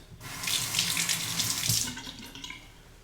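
A water tap runs steadily into a sink while a safety razor is rinsed, a close hissing splash lasting under two seconds before cutting off and leaving faint drips.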